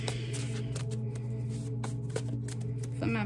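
Tarot cards are shuffled in a steady riffling patter at close range, continuous and even over a low background hum, with a slightly louder flutter at the end.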